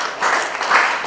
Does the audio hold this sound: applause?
yes